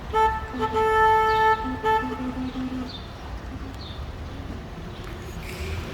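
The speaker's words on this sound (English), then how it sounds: "I'm going to honk my horn as we go through here." A car horn honks in several long, steady blasts over the first two seconds, loud and close, while driving through a floodgate, followed by road and engine noise.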